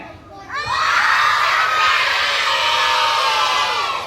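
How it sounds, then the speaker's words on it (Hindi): After a brief quiet moment, a large group of children at an Atladara, Vadodara summer camp bursts into a loud, prolonged shout of Om Shanti, the massed voices holding strong for several seconds. "अभी हम जोर से बोलेंगे ओम शांति"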